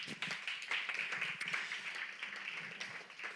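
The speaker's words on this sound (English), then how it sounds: "So clap it up for yourselves for being here." Audience at a music business talk for songwriters clapping for themselves, a small crowd's uneven, moderately close claps continuing steadily but fairly quiet.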